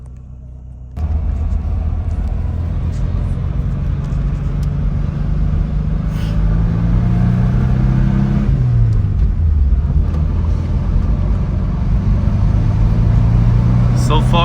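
A Subaru Impreza GC8 STI pulls away and drives, its engine rumbling low from inside the cabin, rising and shifting as it accelerates, steady and fairly loud throughout.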